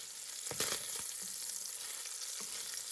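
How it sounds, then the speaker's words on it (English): Sliced, already cooked sausage browning and crisping in a pan, a steady close sizzle with a few scraping stirs in the first second, no talk. "I've got my sliced up sausage going in, and all I want to do is just get them browned, nice and browned and a little crisp."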